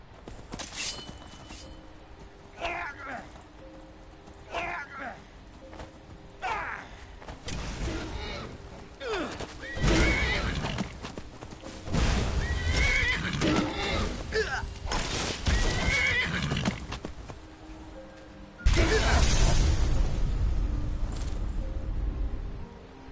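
A horse whinnies several times in Skyrim, its neighs loud and close, with hoof clops and low rumbling between calls.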